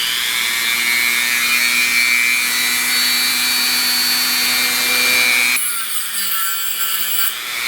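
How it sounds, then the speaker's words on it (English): A Dremel rotary tool grinds a hole into ostrich eggshell with a loud, steady, high-pitched whine and gritty rasp that runs close-up for over five seconds, then the tone shifts abruptly near the end. "I thought, why not use the Dremel?"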